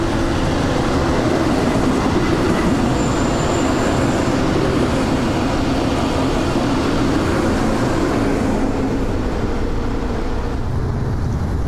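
A Berlin S-Bahn class 485 electric train passes near Hermannstraße station, a steady, loud rumble and rolling rail noise that holds for about twelve seconds with no voices.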